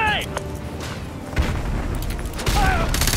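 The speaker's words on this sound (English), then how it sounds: "Grenade!" Grenade blast in the shooter Call of Duty: Modern Warfare 2 Remastered, a loud burst amid ongoing gunfire and battle noise with shouted voices.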